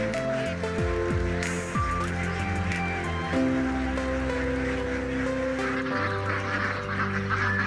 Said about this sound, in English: Indian runner ducks are domesticated waterfowl from the archipelago of Indonesia.